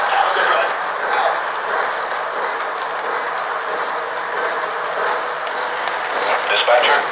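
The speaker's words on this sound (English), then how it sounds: "Dispatcher, train in motion. Heading outbound." A Lionel Polar Express toy train runs on its track with a steady, even rolling whir and faint clicking. It continues unbroken for several seconds, fairly close, with no talk.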